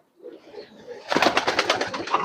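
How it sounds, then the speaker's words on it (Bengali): At a backyard pigeon farm holding over a hundred birds, a pigeon in the loft lets out a run of throaty, pulsing coos that swell from soft to loud and close. "এই যে কবুতরটা চলে গেল।"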